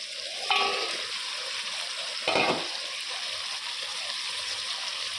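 Eggplant fries lightly with spices in a pan, giving a steady, close sizzle. Two brief louder scrapes of stirring rise over it, and no one speaks.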